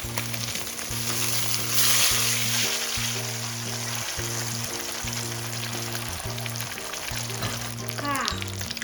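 Tilapia frying in hot oil in a wok, a steady close sizzle with a scrape near the end as the fish is turned with a spatula.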